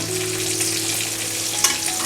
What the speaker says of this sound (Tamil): தண்ணி ஊற்றி நல்லா கலக்கி விட்டுட்டு